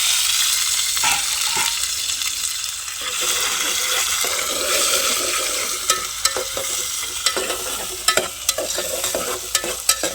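Tomatoes and onions sizzle and fry together in a pan for a village-style potato curry, a steady loud crackle with scraping stirs and sharper clicks of the spoon.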